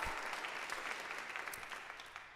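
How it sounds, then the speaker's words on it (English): An audience at a town hall claps for a couple of seconds, with steady faint applause that gradually fades out and no speech over it. "I think we owe them a round of applause"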